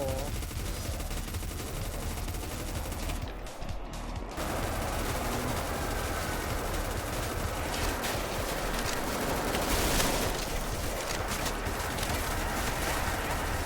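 Sustained automatic gunfire from the zombie-shooting game DEADFRONT rattles on loud and continuous, with a brief dip before rapid bursts resume and swell near the end.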